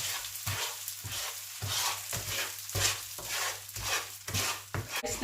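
Sugar, butter and chicharon macaroni caramelize in a pan, sizzling softly while a utensil stirs and scrapes in a steady, repeated rhythm close by.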